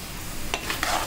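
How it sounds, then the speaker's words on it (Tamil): Puffed rice is stirred into hot jaggery syrup in a pan, a soft scraping and rustle over a faint sizzle, with a few brighter stirring strokes toward the end and no talk. "இப்போ பொரியும் போட்டு கிண்டிக்கலாம்"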